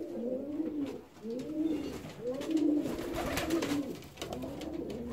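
Fancy pigeons, including silver Rostov pigeons, coo in steady repeated rolling phrases, close and fairly soft, with several birds overlapping in a continuous murmur.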